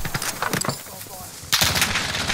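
Rapid video game gunfire, with bursts of shots in the first half and then a denser, louder volley of automatic fire that runs to the end, while a voice talks over the shooting.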